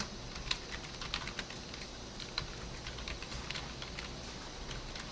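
Code is typed on a computer keyboard while building an HTML, CSS and JavaScript button, quiet irregular key clicks and taps in uneven bursts, close and fairly faint, with no talking.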